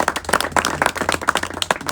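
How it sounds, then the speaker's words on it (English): A round of applause from colleagues at a G20 township working committee bootcamp, a modest group clapping in quick uneven bursts, close and lively for a couple of seconds. "can we give our chairperson a round of applause for them to be here?"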